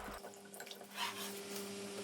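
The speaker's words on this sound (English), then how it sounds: "pour some water and wash your cassava very well" Cassava being washed in a bowl of water, with soft sloshing and dripping against a steady low hum, fairly quiet and with no voices.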